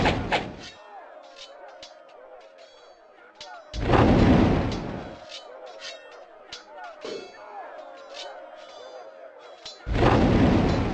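Artillery pieces firing in the strategy game Warhammer: Shadow of the Horned Rat, with three loud, booming blasts a few seconds apart and quieter clatter and brief voice bursts between them.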